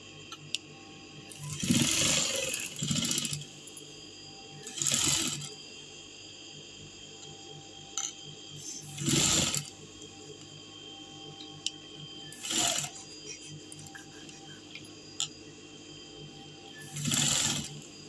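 Sewing machine stitching a star-shaped neckline in short separate bursts of rapid mechanical clatter, about five runs with quiet pauses and faint handling noises between them.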